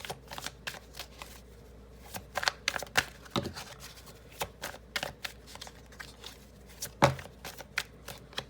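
Tarot cards being shuffled by hand, a rapid series of crisp riffling and slapping bursts repeating in an irregular rhythm, close and fairly loud with no talking.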